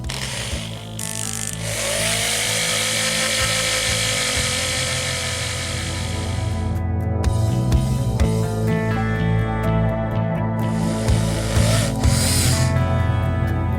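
A power drill whines steadily for the whole stretch while drilling a DIY phone holder, with shifts in pitch and a brief stutter as it bites into material.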